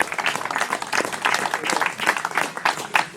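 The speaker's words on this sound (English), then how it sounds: "can we go with round of applause for Rob?" A crowd at a football club's end-of-season awards ceremony gives a round of applause for Rob, dense clapping with uneven bursts that rises and falls over a few seconds.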